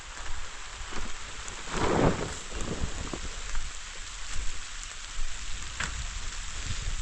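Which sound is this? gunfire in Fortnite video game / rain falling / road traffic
rain falling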